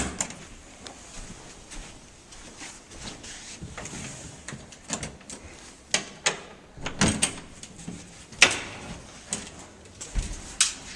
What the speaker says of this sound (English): you can then take the front of the flight case off